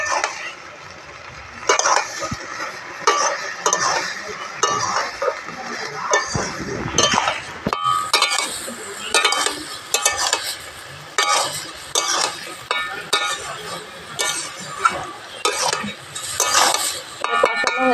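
A lid comes off a pot of vegetable curry, then a spoon stirs it with repeated clinks and scrapes against the metal over a faint simmer, close and fairly loud, with no talk.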